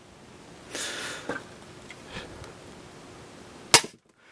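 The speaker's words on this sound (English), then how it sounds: "Let's see if I can't aim straight through my chronograph, and we will fire." An X-Shot Mega toy blaster fired through a chronograph: soft priming and breathy handling noises, then one sharp, loud snapping shot near the end that cuts off abruptly.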